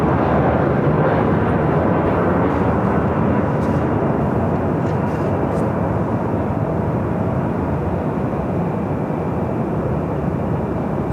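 A Delta Airlines A321neo airliner arrives at Los Angeles International Airport, a steady, loud jet roar that holds without a break for several seconds, with no talk over it.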